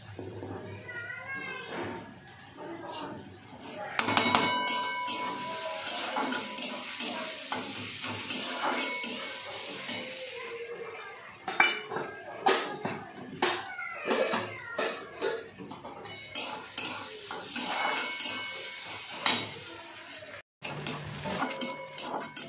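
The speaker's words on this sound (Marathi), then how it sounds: "कांदा चांगला भाजून घेते" Onion frying and being stirred in a pan for a bitter gourd dish, heard as a sizzle with stirring scrapes beneath frequent talking and busy household noise.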